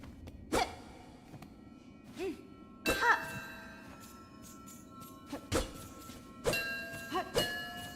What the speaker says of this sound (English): I should stop hitting those bells.